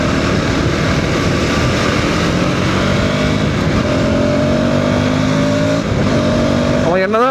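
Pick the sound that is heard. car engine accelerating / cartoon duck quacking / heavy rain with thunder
car engine accelerating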